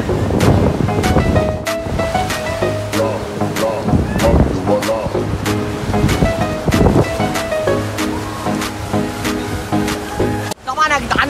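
Waves wash in at a beach by the sea, a steady surging roar behind a voice, with sustained tonal sounds layered on top.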